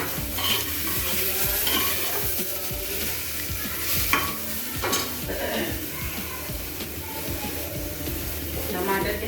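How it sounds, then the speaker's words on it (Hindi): Tomatoes go into a hot frying pan of Indian taro (arbi) dal and are stirred, with a steady sizzle broken by scraping spoon strokes and clinks against the pan. Someone speaks over the cooking. "अब इसमें हम टमाटर डाल देंगे।"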